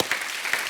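Studio audience applause on a TV comedy show honouring a famous Hindi poet, a steady dense clapping wash filling the whole short moment with no voices on top.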